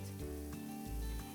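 Onions and ginger garlic paste sizzling in a hot pan for chana masala, a dense, steady hiss with a brief stirring shift, close and loud with no talking.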